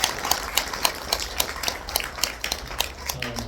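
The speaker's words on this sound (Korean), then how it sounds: "격려의 박수를 좀 부탁드리겠습니다" An audience claps in steady applause, a rhythmic patter of many hands at moderate distance that continues throughout with no talk over it.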